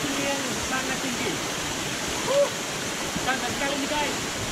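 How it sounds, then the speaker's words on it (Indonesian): Cemoro Gading waterfall, a tall waterfall in Nongkojajar, Pasuruan, producing a constant broadband rushing roar of falling water, steady and fairly loud, with a few faint bird chirps scattered over it. "Air terjun Cemoro Gading memiliki keindahan yang sangat eksotis dan memiliki ketinggian yang sangat tinggi"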